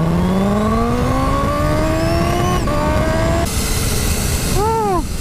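Kawasaki H2 supercharged motorcycle accelerating hard on a road, a loud rising engine whine climbing through gears with a shift break, then a brief whistle-like blow-off near the end, no talk.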